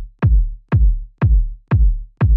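Five evenly spaced hits from a round, warm house kick drum, each with a punchy attack and a deep, booming low tail, loud and upfront with nothing else playing.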